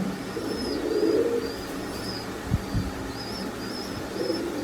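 A single imported high-flying pigeon gives soft, low cooing phrases near the start and again at the end, with a couple of brief thumps in between and faint higher chirps in the background; nobody speaks.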